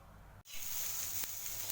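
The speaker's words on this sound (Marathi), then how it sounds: "तेलामध्ये मिरची डाग पडेपर्यंत परतून घ्यायची" Green chilies fry in hot oil on a griddle over high heat: after a brief moment of quiet, a steady, close sizzle crackles continuously, with one sharper pop partway through.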